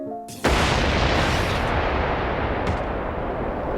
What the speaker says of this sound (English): Harvey is caught in the middle of a sudden explosion while pursuing Thorne